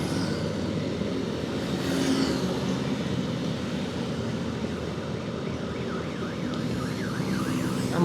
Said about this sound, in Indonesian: Ambulan, sebelah mana ambulan?